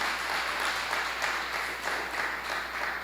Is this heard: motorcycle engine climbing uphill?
no